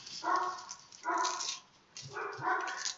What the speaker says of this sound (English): you guys are probably hearing my dog bark right now